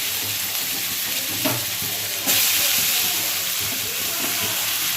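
Nigella seeds sizzle in hot oil left from frying fish, with radish and potato ready to go in next. A steady, bright frying hiss runs throughout and grows louder partway through, with no voices.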